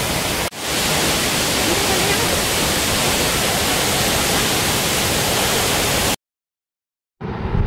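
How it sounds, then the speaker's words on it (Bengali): Tiger Point waterfall at Mainpat, Chhattisgarh, with water dropping from four or five spots side by side, gives a loud, close, unbroken roar that stops abruptly near the end, then briefly returns after a short silence. "শুধু এক জায়গা দিয়ে নয়, পাশাপাশি 4-5 জায়গা দিয়ে জল পড়ছে এখানে।"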